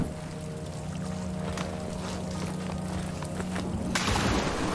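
Water churns and pours continuously in the Wolfenstein: The New Order catacombs, a steady rushing wash with a low mechanical hum beneath, ending in a sudden brighter burst of splashing.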